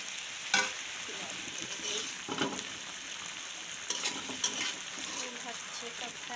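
Spinach and tiny fish frying in a pan: a constant low sizzle with a few sharp stirring clacks and scrapes scattered through.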